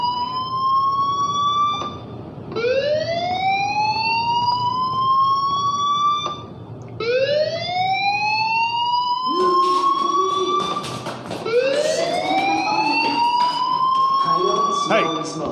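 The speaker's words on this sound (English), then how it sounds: "do you hear that fire alarm? That means you should be outside." A fire alarm in the video game Life is Strange wails in loud, rising whoops, each sweeping upward and repeating about four times in steady succession. It plays alone with no speech over it.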